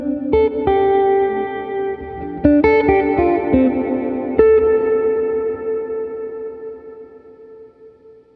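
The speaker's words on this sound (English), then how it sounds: "So here's the sound of the guitar." A clean electric guitar through a Benson amp head with a wet reverb in the effects loop picks out a few chords and notes that ring out and trail off into a long, washy reverb tail.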